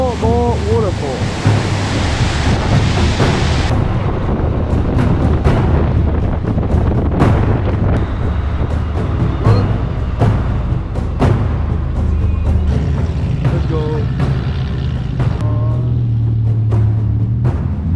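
A roaring waterfall in Norway heard close up, a loud continuous wash of rushing water with wind buffeting the microphone, and brief voices mixed in.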